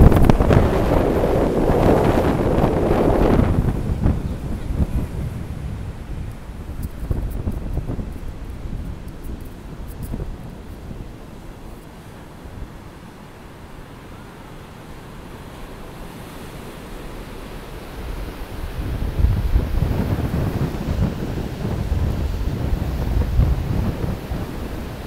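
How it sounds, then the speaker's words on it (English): Rough ocean surf on a Florida beach with gusting wind buffeting the microphone: loud crashing waves at the start and end, easing to a softer wash in the middle, with no talking. "Rough tides today."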